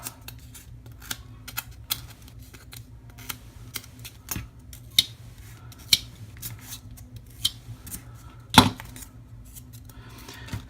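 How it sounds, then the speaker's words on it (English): Sharp, scattered scraping and ticking strokes of a hand tool roughing up and gouging the top surface of a piece, quiet and close, with a low steady hum beneath and one louder scrape near the end. "So I need to rough up the top surface here. Gouge it out a little bit."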